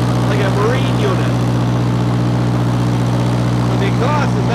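A Kohler 10 kW generator driven by a Ford Pinto four-cylinder engine with a liquid-cooled exhaust runs under full load, giving a steady, loud, close mechanical hum with faint voices beneath it.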